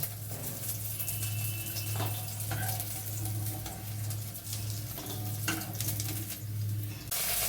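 Chital fish muitha dumplings sizzling in mustard oil in a kadai, a continuous close crackle with some clinks of utensils against the pan, and no voices.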